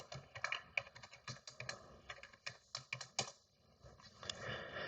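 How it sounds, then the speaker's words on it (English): A password is typed on a computer keyboard: close, quick, irregular keystroke clicks in short bursts, heard alone against a quiet background. "type in your password"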